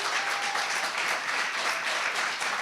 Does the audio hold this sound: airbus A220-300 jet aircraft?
no